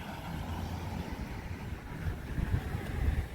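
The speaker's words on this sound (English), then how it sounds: "Straight piped F-150 with a V8. I definitely know it has the V8 because of the sound." A straight-piped Ford F-150 pickup with a 5-liter V8 passes on a downtown street, its loud, steady low rumble filling the clip throughout with some wind noise.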